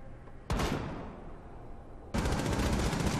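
Loud gunfire in Rainbow Six Siege as Glaz's sniper rifle hits an armor wall. Two sudden, heavy blasts arrive about a second and a half apart, each with a long rumbling tail, and no voices are heard.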